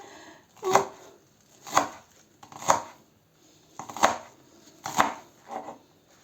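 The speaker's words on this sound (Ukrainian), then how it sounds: "На дрібонько ми нарізаємо це все." Green garlic stalks are chopped finely with a knife on a board, six sharp, evenly spaced cuts ringing out close and clear with quiet pauses between them.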